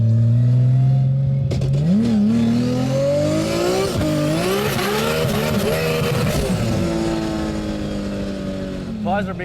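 Interior view of a 1600 hp Nissan Skyline GTR with a 3.6L RB engine spinning its wheels on cold tires: a loud, continuous engine roar that rises and falls through sweeping revs.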